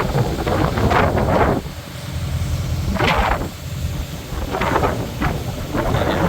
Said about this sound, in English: I imagine y'all can hear the wind